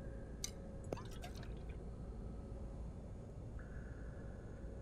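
Water dripping and being collected inside a cave in the survival game The Infected, a few soft drips and a brief liquid trickle over a steady low ambient hum, quiet and close.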